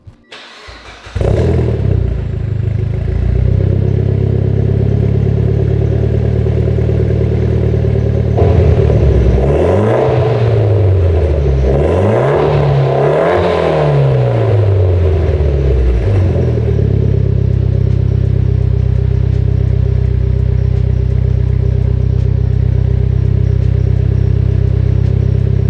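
A Mitsubishi Evo X with an ETS V3 exhaust cold-starts after a brief crank, then settles into a loud, steady idle with a few rising and falling revs in the middle before droning on.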